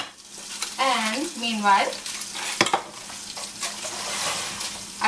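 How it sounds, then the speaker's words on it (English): A spicy pork roast browns in a hot pan, giving a steady sizzle and stirring clatter that runs under a voice speaking through most of the clip. "I'm going to brown up all sides of it."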